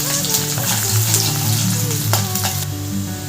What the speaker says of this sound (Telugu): ఒకటంటే ఒకటి పచ్చిమిరపకాయ, ఒక చిన్న ఉల్లిగడ్డ ఇవైతే వేసి ఫ్రై కానివ్వాలి.